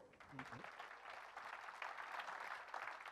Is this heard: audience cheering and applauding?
yes